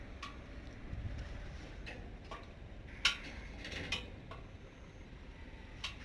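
Faint, irregular metallic ticks and pings from a cooling oil-cooled Hero Honda Karizma R motorcycle engine after shutdown, scattered over a few seconds against a low background rumble.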